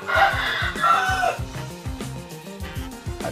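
Bangkok game fowl at feeding time over a mix of rice and cracked corn, clucking and calling in a string of loud, close bursts that run steadily throughout.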